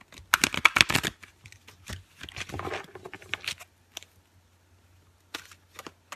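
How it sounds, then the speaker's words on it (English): A deck of reading cards is shuffled by hand at close range, giving a dense run of crisp riffling snaps that stop, then return in shorter bursts, with a faint steady hum underneath. "let's shuffle this again."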